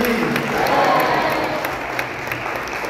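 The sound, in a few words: audience applauding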